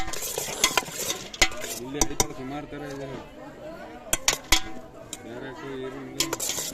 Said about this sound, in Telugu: పల్లీలు వేసాడు గ్రీన్ చిల్లీ మొత్తం కలుపుతున్నాడు అనమాట